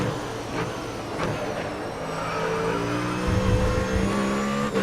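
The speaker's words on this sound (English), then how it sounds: "just releasing the throttle and letting the car slow itself down" A race car coasts off throttle in the racing video game Grid Autosport, the engine note steadily falling and droning loudly with tire and track rumble, no voices.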